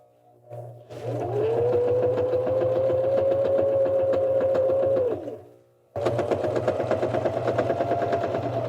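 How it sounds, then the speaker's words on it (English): Janome 725S sewing machine stitching close to the edge of a fabric microwave cozy, a steady close motor whir with rapid needle rhythm for about four seconds, a short pause, then stitching resumes at full speed. "we can go ahead and start stitching over that close to the edge"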